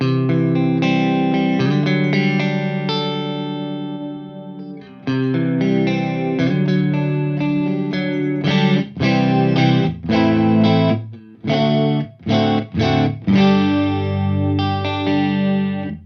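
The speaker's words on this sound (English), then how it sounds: "it sounds like a fixed chorus, so it doesn't do the swirly vibrato thing" An electric guitar plays chords and choppy riffs through a pitch-shift delay set to a fixed chorus-like doubling, mix at about half, loud and sustained, with no voices.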